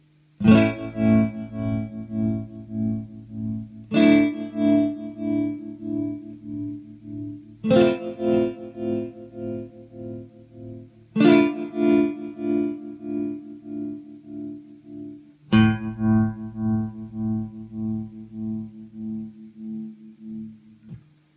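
Five sustained electric guitar chords through a Moogerfooger ring modulator, struck roughly every four seconds, each ringing with a metallic, warbling modulated tone before the next hit.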